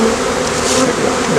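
A dense, loud buzz of many honeybees swarming close around an open hive during a spring split, continuous and droning.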